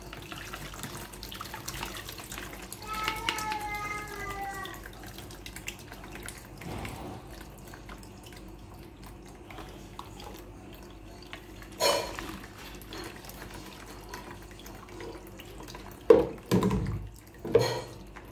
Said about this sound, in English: So I have to sieve it again because I did not remove the seed from the watermelon.